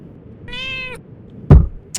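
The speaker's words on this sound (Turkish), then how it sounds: "Asansör boşluğundan da atlayan ilk defa bir kedi görüyorum" In the video game Only Way Is Down, a cat gives one clear, drawn-out meow, followed shortly by a sharp, heavy thud.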